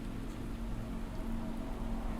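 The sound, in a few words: rain falling, from the video game DIVE OR DIE demo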